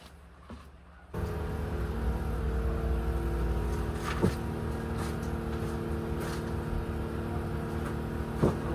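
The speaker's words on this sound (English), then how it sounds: "It's gonna be noisy because she's straight headers right now" A race car engine with straight headers runs at a steady idle, a loud, continuous low rumble that starts after about a second and holds even, with a couple of faint knocks.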